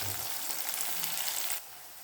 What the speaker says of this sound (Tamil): கறிவேப்பிலையை போட்டு நம்ம வதக்குறோம்